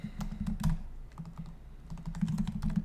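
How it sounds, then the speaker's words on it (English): Rapid clicking keystrokes on a computer keyboard while typing an SEO roadmap plan, close and steady in irregular bursts, with no talking. "I'm just going to start typing in top 10"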